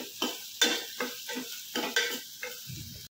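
Crushed garlic and onions fry in a pan, a close sizzle broken by regular scraping stirs about every half second, with no talking.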